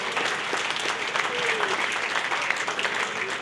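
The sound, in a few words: dinner audience applause for Joe LaRocca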